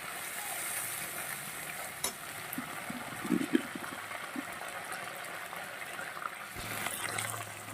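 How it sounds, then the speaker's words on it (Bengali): Slit green chillies hit hot oil, giving a continuous moderate sizzle and hiss of frying with a few brief spatters and a faint clink near the middle. "দিয়ে দেব চেরা কাঁচা লঙ্কা"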